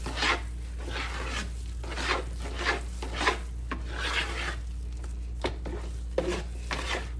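Eggs whisked by hand in a bowl for buttermilk cornbread batter make rhythmic scraping strokes, each rasp repeating about once a second, close and clear, with no talking.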